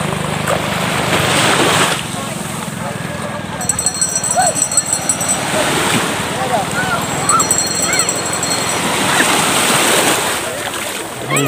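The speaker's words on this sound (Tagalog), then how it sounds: "Lumalakas na yung alon mga katip ng friends kumpara kaninang umaga." Ocean surf at Pagudpud beach in Ilocos, strengthening later in the day, gives a steady broadband roar of breaking waves throughout, with faint voices in the background.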